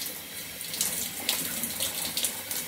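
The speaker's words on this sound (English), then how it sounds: "I kind of use my pads and my fingers again to let that water hit my scalp." Warm water runs steadily from a tap over a scalp and hair during a microloc wash, a continuous close hiss and splash with small shifts as the stream is moved.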